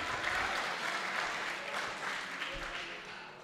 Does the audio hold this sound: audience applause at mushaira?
yes